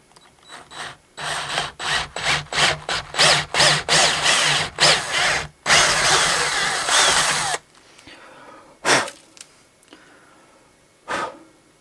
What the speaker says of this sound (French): Donc maintenant on va prendre la visseuse.